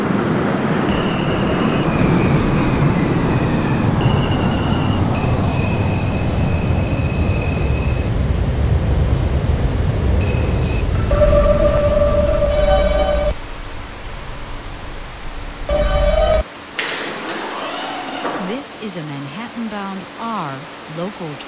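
An R179A Alstom R subway train in the Openbve 2016 simulator game rumbles loud and close as it arrives at Woodhaven Blvd. Door chimes and tones follow, then the sound drops to quieter station ambience and announcements.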